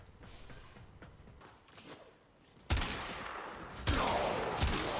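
Vulkar Wraith sniper rifle fired in the Warframe video game against Corrupted enemies on Steel Path, with two loud, sharp shots that ring out, one after a quiet stretch and another about a second later, over faint game ambience.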